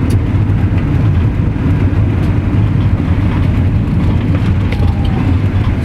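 Car accelerating on a ring road, loud steady engine and road roar from inside the cabin, a continuous low rumble with rushing wind noise and no break.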